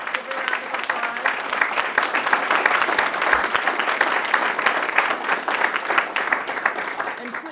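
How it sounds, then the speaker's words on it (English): Sustained, even applause from an audience honoring school representatives at a green schools recognition ceremony in Harrisburg, continuous and moderately loud with some crowd noise. "if we could all give a round of applause"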